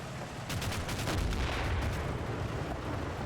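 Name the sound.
machine gun fire in the video game Combat Mission: Battle for Normandy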